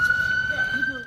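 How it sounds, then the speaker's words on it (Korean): A siren wails during an earthquake in Taiwan, a steady high tone holding throughout under a layer of voices and background noise. "건물이 기울어지고 사이렌 소리가 울려 퍼집니다."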